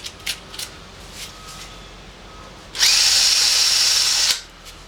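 A power drill bores out a stripped Allen hex head bolt in a motorcycle engine, one loud whining burst of about a second and a half after a few short taps and clicks.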